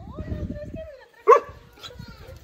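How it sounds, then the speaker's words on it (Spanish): At a ranch, a dog lets out a single sharp bark, close and loud, with people talking before and after it. "no le ladres a mi perra, le está ladrando a la Jana."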